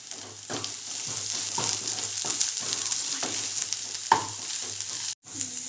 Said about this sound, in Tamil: இப்போது நம்ம வெட்டி வச்சுருக்க மிளகாவை உள்ளே போட்டு நல்லா வணக்கணும்